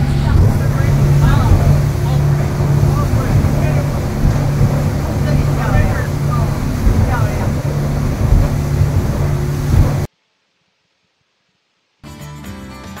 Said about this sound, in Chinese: 今天搭乘的是一艘小快艇。